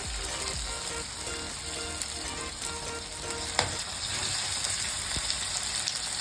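Ginger paste sizzles in hot oil with sautéed green chilies, onions and tomatoes for an Andhra chicken curry: a continuous, even frying hiss with occasional faint stirring clicks, no talking.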